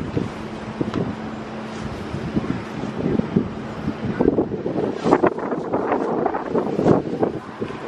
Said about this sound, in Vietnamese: Gió to quá.